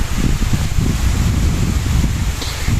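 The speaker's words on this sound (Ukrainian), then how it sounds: "От який вітер піднявся. Чуєте, як дує?" Gusty wind blows steadily through a forest, a loud low rumble buffeting the microphone, with faint rustling of trees in the background and no voices.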